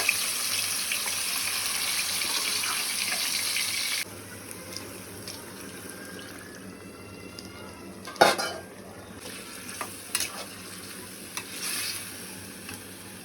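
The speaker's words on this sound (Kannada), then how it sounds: "ಇವಾಗ ಮ್ಯಾರಿನೇಟ್ ಮಾಡಿ ಇಟ್ಕೊಂಡಂಥ ಚಿಕನನ್ನು ಈ ಎಣ್ಣೆಗೆ ಹಾಕ್ತೀನಿ." Marinated chicken for a cashew chicken curry drops into hot oil in a pan with curry leaves, setting off a loud, steady sizzle for about four seconds that then settles into softer frying, with a few clinks and stirring scrapes from the pan.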